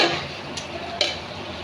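Spice paste with prawns sizzles loudly and steadily as it is stir-fried in a pan, with two brief scraping stirs in a short, close burst.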